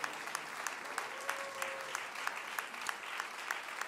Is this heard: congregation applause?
yes